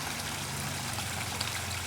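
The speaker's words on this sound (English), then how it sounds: "The water comes from the grow out pond and it goes through this gravel bed right here" Water trickling out of a grow-out pond through a gravel filter bed at an urban permaculture site, a soft steady burbling flow heard alone at low level.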